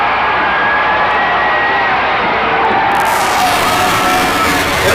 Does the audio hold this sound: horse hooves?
no